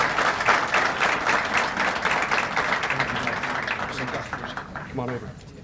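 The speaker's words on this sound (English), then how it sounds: "If that doesn't deserve some applause" At a police awards ceremony, an audience claps in steady, dense applause that runs throughout and thins slightly toward the end, with faint voices mixed in.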